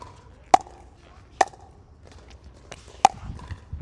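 An RPM pickleball paddle strikes a ball three times, each a sharp, fairly soft pop spaced about a second apart, close and alone against a quiet background.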